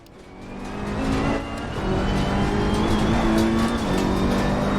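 Ferrari 488 Challenge Evo race car engine in Assetto Corsa Competizione at Oulton Park, a steady loud engine drone with rising revs and gear shifts, close and continuous with no talk.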